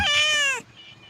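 A single short, bright cat meow, fairly close, then quiet background.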